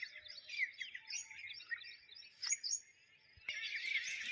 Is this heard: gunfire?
no